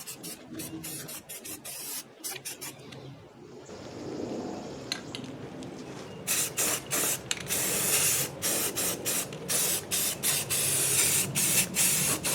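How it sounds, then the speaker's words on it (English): Short bursts of Rust-Oleum aerosol spray paint hiss close up on a 1968 Camaro body, first a few quick puffs, then a longer steady spray, then a run of rapid rhythmic sprays. "now I'm just going to spray that with some Rust-Oleum"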